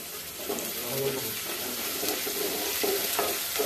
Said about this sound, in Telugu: జీలకర్ర వేసిన, ఆవాలు, ఉల్లిగడ్డ, పచ్చిమిర్చి వేసిన.